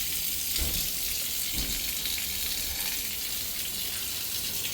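Water streams steadily from a Parkside solar-powered outdoor shower, a constant broad hiss and splash with a couple of soft low thumps, close and even throughout, with no talking.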